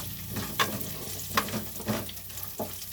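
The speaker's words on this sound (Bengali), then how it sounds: "দিয়ে ঘিয়েতে প্রথমে একটুখানি নেড়ে চেড়ে ফ্রাই করে নেব।" Almonds, cashews and raisins fry in ghee with a steady low sizzle, and a few sharp stirring scrapes land at irregular intervals, close and moderately loud, with no voices.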